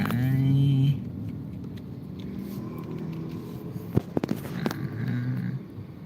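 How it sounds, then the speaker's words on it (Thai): Car traffic crawling in the rain up Patong hill, a steady low road and engine rumble with a few sharp clicks and knocks midway, under a brief opening voice and later talk. "ให้ดูบรรยากาศวันฝนตกว่ามัน รถติดขนาดไหน"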